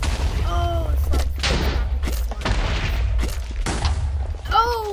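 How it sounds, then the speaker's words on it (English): Several TNT blasts go off in the Minecraft Super Craft Bros minigame, a rapid series of loud booming bursts over constant game noise, ending in a short squeaky sound effect. "Oh, what an explosion by the slime."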